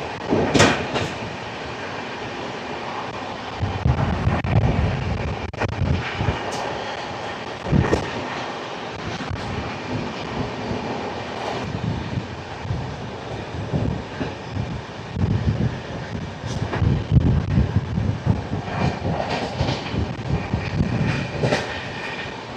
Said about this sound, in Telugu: ఆ గూడ్స్ వెళ్తుంది చూసారా